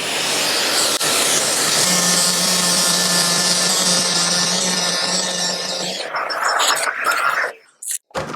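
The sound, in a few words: sanding wood piece with dust extraction running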